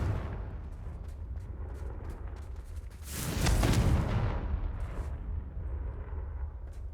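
A Confringo blasting spell detonates in Hogwarts Legacy: a single loud, broad explosive blast midway, swelling out of quieter rumbling game ambience and trailing off into a low rolling tail.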